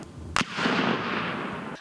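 Ammunition detonating in a sharp, loud blast at the front line near Klishchiivka, followed by a dense, sustained crackle of smaller explosions popping like fireworks.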